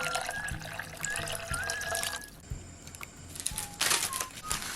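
Water is poured into a pot on a kitchen stove for ramen, giving faint, uneven splashing and running sounds with a few soft clinks and a pause midway.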